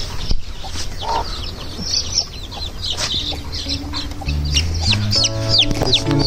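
Hens cluck repeatedly in a coop where a second black hen is being moved in to keep young chicks warm, with steady high chick peeping throughout and the clucking growing louder and more layered toward the end.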